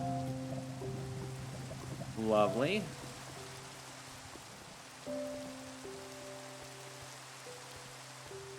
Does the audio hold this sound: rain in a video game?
yes